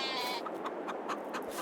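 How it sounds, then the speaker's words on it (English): Sheep bleating in a farming survival game, a short close bleat over a steady background hum. "Happy sheep."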